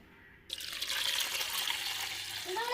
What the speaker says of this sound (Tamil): தேவையான தண்ணி சேர்த்துக்குருவோங்க.